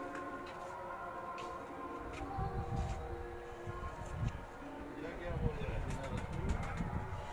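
A pigeon from a line of winners on a Karachi rooftop coos in low throaty bursts, close and repeated, under someone speaking and some handling noise.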